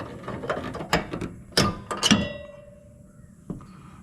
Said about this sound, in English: got that banjo cotter pin out